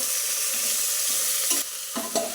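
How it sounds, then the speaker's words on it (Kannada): A cup of tomatoes fries in a pan for bisi bele bath, a loud, steady close sizzle with a few quick spoon scrapes near the end and no speech. "ಒಂದು ಕಪ್ ಟೊಮೆಟೊ ಇದು ಸ್ವಲ್ಪ ಚೆನ್ನಾಗಿ ಫ್ರೈ ಆಗಲಿ"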